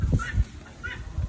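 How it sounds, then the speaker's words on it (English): Sebastopol geese honking softly on a farm, a few short, faint nasal calls spaced through a quiet moment with no talking. "Cheyenne and Frank haven't been going in with the other geese."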